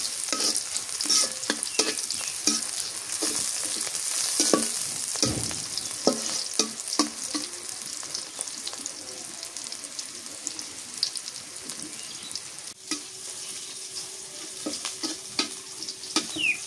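Greens frying in oil in a pan, a sustained crackling sizzle with frequent close scraping stirs of a spatula, irregular clicks and knocks throughout, with no talking.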